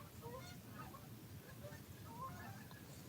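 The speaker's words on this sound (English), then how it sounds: "there's a bunch of geese in my ear because I'm hearing them fly outside" Geese honking as a flock flies past outdoors, the calls faint and distant, scattered in short bursts over a steady low background hum.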